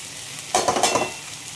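Grated coconut being stirred into rice rava in a pan, a short burst of scraping and rustling strokes over a faint sizzle, close and with no voices.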